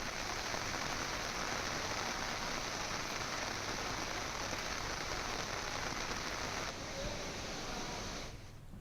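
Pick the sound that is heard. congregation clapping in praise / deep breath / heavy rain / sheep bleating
heavy rain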